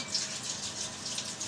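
A kitchen tap runs steadily, close by and fairly quiet, with a smooth, continuous hiss of flowing water and no voices.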